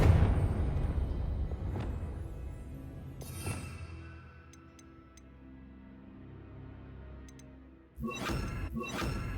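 A Confringo blasting spell in Hogwarts Legacy goes off as a muffled burst near the middle, then a louder, sharper blast with crackling debris near the end, over a low, rumbling game ambience.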